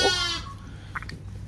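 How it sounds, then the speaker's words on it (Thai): A black lamb bleats on a farm, giving one drawn-out nasal call at close range that fades into quieter farmyard background with faint bird chirps. "ได้ลูกแกะสีดำตัวหนึ่งพี่น้อง"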